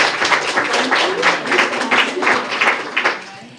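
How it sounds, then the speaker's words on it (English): A conference audience at a Baltic Sea Region cities event gives a speaker a short round of close, irregular hand clapping that swells and ebbs before tapering off. "So big applause once again for Alexandra."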